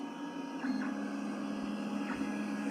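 A 3D printer, its hot end already heated, starts laying down a skirt, giving a faint, steady mechanical hum with a few soft stepper-motor chirps and clicks, quiet and close, with no talking.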